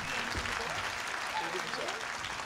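An audience bursts into applause for a guest on a Brazilian TV show, brisk clapping that mixes with voices talking over it throughout.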